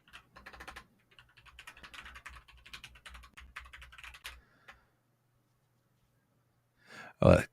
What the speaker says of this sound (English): That keyboard sounds so good.